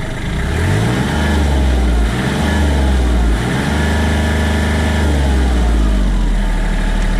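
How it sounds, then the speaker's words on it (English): A Kubota L3400 tractor engine runs loud and close, a continuous low diesel drone with slight rises and dips in pitch, heard alone without talk. "You gotta keep the tractor running until this thing spins down."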